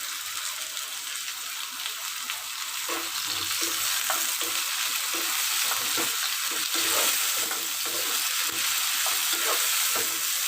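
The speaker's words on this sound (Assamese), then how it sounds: "এতিয়া এইখিনি অলপ সময় এনেদৰে লৰাই বিলাহীখিনি ভাল অকণমান সিজিবলৈ দিম।" Onions and tomatoes sizzle in a pan for an egg pasta dish while a spoon stirs them, making soft scraping taps over a steady frying hiss, with no voices.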